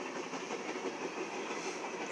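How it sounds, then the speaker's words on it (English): A train passing through Science Hill, Kentucky, with a steady, loud rumbling wash of rail noise and faint clatter, continuous throughout with no voices. "Train's slowing down."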